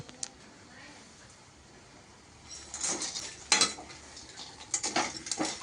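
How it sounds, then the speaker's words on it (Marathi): Mixed-dal sandge are stir-fried in oil in a pan, heard as quiet background at first, then bursts of spatula scraping and metallic clinks against the pan, close and intermittent. "ते मी तेलामध्ये परतून घेतोय अजून परत"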